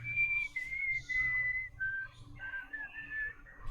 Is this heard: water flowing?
no